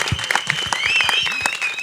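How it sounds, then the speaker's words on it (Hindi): A crowd applauds at a film trailer launch event, with brisk, dense clapping and a few voices over it, loud and close throughout the short burst. "पहले तो सर 20 लोगों की कास्ट को एक स्टेज पे लाने के लिए सर के लिए जोरदार तालियां हो जाए।"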